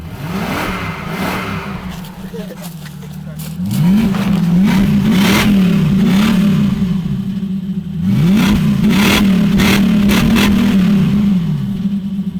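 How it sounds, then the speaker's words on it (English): A loud, raw car engine with its silencers cut off revs repeatedly in rising and falling surges after a short idle, harsh and unmuffled, close by. "Should we start the car, see how it 3 sounds to go."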